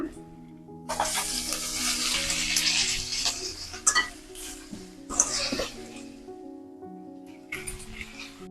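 Ponnaganti leaves being stir-fried with salt in a pan, a steady close sizzle with stirring scrapes and brief splashy bursts running throughout.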